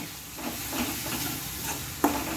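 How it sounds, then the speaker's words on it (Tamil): Garlic sautéing in sesame oil in a pan for garlic pickle gives a steady soft sizzle with faint stirring scrapes and one brief louder clink near the end, with no talking. "நல்லா வதக்கிக்கோங்க"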